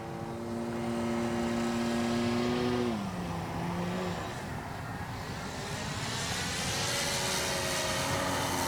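A CNHL Bison XT STOL model airplane flies overhead, its electric motor and propeller giving a droning buzz whose pitch slides down, then climbs again as it passes at moderate distance.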